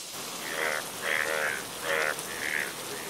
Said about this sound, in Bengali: এই বৃষ্টি যে কমবার নয়, এদিকে গর্বেও যে জল পড়ছে